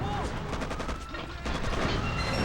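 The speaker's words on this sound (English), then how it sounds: "they're doing a lot of damage with those tank cannons" Russian 100mm tank cannons firing in the Xbox game Mercenaries: Playground of Destruction, heard as dense, continuous blasts and gunfire crackle filling a chaotic battle scene, loud and close throughout.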